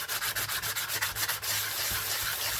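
Very fine sandpaper rubs the edge of a coin ring made from a Tunisian 100 millim coin, first in quick back-and-forth strokes and then in one steady continuous scrape, close and alone with no talking.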